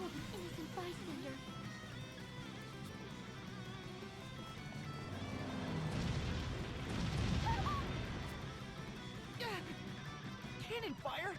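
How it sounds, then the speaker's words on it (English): Cannon fire in the video game Bravely Default, a swelling series of booming explosions that builds to a loud rumbling peak midway and fades, under game music and spoken character dialogue. "Cannon fire? This is madness!"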